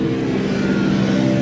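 A Jeep Gladiator fitted with a Gibson exhaust runs close by, its engine holding a steady, throaty rev with a continuous droning rumble and no speech.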